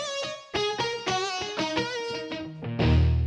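An instrument sample played through distortion amplifiers: a run of bright, harmonically rich distorted notes struck one after another, ending in a heavier, fuzzier chord that swells loud.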